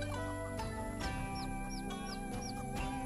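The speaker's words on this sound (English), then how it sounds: "Mother chicken." Bantam mother hen clucking repeatedly at a resort overlooking the ocean, with soft chirps from chicks over a constant loud hum of background noise.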